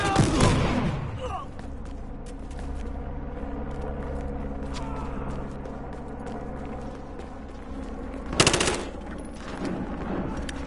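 Gunfire in Battlefield Hardline while sniping, a loud burst at the start, a steady rumbling background, then another sharp shot near the end.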